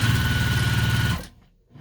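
A sewing machine stitches a fabric face mask in a fast, steady mechanical whir at close range, then stops abruptly, leaving near silence.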